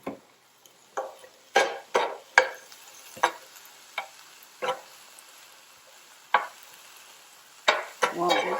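Edamame and mixed vegetables sauteing in a pan for happy rice, heard as a series of separate scraping stirs and brief sizzling bursts with quiet pauses between them, close and moderately loud.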